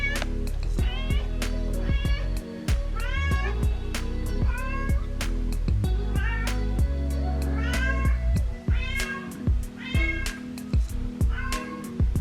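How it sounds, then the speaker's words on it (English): A cat meows repeatedly in drawn-out, rising calls over a steady low background hum and music-like tones. "She will carry these around and then meow at us."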